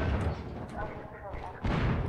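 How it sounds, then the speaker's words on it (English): Barrels explode in the video game Half-Life 2, with heavy low booms rumbling through the scene while a voice talks over the action. "nothing like exploding barrels in your face to lighten the mood"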